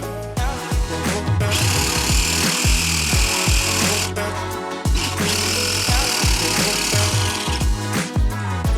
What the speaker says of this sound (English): just got back in from cutting up this charcuterie board here with this jigsaw here